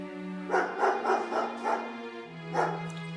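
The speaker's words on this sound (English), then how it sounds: "It's only a dog barking." A dog barks about five times in a quick, close series, pauses, then lets out one more bark, all over a steady tonal background hum.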